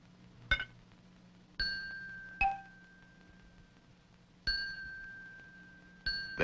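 Heavy steel bars struck one at a time ring out like bells, five separate sharp strikes at an unhurried pace, each with a bright, sustained tone that slowly decays, heard close and alone.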